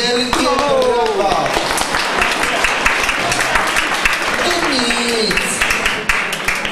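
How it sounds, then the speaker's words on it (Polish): A crowd at a senior citizens' gala in Wrocław applauds a dance couple after their English waltz, dense loud clapping that persists while a voice speaks over it. "Wielkie brawa!"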